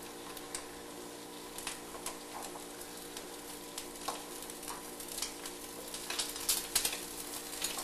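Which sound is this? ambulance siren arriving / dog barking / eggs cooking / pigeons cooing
eggs cooking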